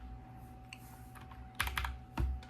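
Sparse keystrokes on a mechanical keyboard, a few soft clicks and then a couple of louder clacking presses close to the microphone, over a faint, constant electrical hum.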